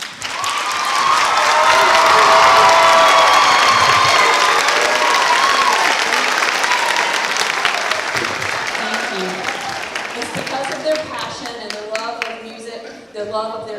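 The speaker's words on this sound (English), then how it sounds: "I would like to start with applauding them." Audience at an elementary all-county chorus concert applauds the music teachers, with loud sustained clapping and some cheering that swells early and gradually thins, while a few voices come through toward the end.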